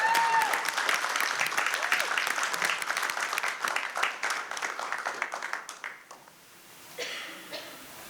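A crowd at a city council meeting applauds service award recipients, honoring long-serving city employees with sustained, dense clapping that holds steady for about six seconds before tapering off into scattered claps and faint murmurs.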